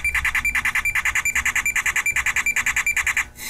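A car key fob's radio signal picked up on a USB RTL-SDR receiver: a rapid, steady train of shrill electronic beeping pulses, about fifteen a second, fairly loud, cutting off abruptly into static near the end.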